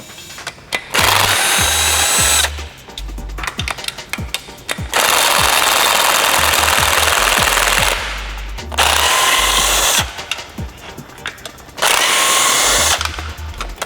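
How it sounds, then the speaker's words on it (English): A power tool, likely an impact wrench, removes oil pan bolts from an engine during an LS swap into an FRS, firing in loud, rapid rattling bursts of a few seconds each, separated by short pauses, close by. "we're gonna start removing the bolts all the way around"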